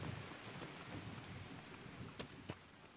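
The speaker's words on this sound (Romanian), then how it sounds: "S-a terminat ploaia." Steady rain hisses down in Escape from Tarkov's Interchange map, a continuous wash of falling water with a couple of sharp louder drops or cracks near the end, with no voices over it.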